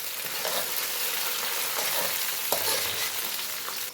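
Chopped onions and garlic fry in a pan with a steady, dense sizzle and occasional stirring scrapes, close and continuous, with no talk.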